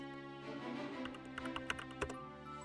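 Rapid, soft keystrokes on a computer keyboard, a quick irregular patter of clicks with a few sharper taps, heard close up and alone over a faint steady hum.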